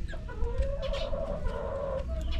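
Chickens cluck and murmur close by, with a steady tonal call running through most of the clip over low barnyard rumble.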